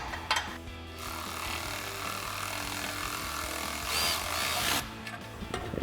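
A ratchet fitted with a long 5mm Allen socket tightens bolts on a RedRock HD rear bumper on a Jeep Wrangler JL. There is steady close-up grinding and rubbing, a louder stretch near the end, and no speech.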